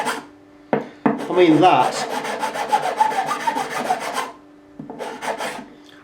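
Rapid rhythmic rasping of a hand file scraping hard rosewood on a guitar, close and loud in bursts of quick strokes, with a brief spoken remark.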